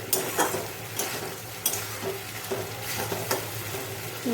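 Taro and chickpeas with spices stir-frying in a pan: repeated spatula scrapes and knocks against the pan at an irregular rhythm over a constant close sizzle.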